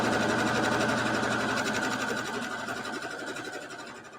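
A sewing machine stitches fabric with a fast, even mechanical whirr and rapid needle ticking, running loud and close before gradually slowing and fading toward the end.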